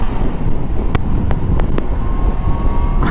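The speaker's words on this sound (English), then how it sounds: "it's actually quite windy out right now" Steady wind roar buffeting the microphone while riding a 2019 Yamaha Niken motorcycle at speed, with a few sharp clicks and a faint engine tone underneath; no talking.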